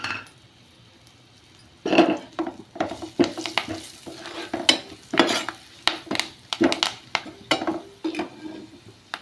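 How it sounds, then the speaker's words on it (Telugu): Spoon stirring chili powder, salt, turmeric and curry leaves in hot oil in a pan for carrot rice, scraping and clinking repeatedly over a soft sizzle, close and fairly loud after a quiet opening. "పసుపు అన్నీ వేసేసి కలుపుతున్నా"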